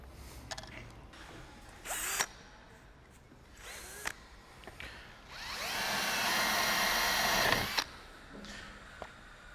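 A power drill whirs in short bursts, then bites into an Equitone facade panel with a sustained, louder grinding whine for a couple of seconds before stopping.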